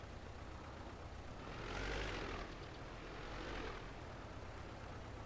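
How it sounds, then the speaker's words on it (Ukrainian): A droning tractor engine, a red LTZ in Farming Simulator 22, swells and fades twice over a steady low rumble, sounding like a motor revving up from a distance. "заводимо трактор"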